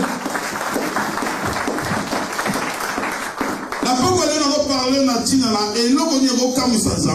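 A church congregation applauds, with dense clapping rising together with voices and cheering from the crowd. Partway through, a voice comes in over the clapping and the crowd noise.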